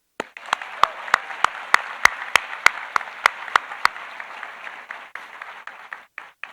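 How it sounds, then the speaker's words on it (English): A small crowd claps for several seconds, scattered sharp claps over a steady patter, fading out toward the end. "Can we all please give a big, warm round of applause for the PSD Foundation?"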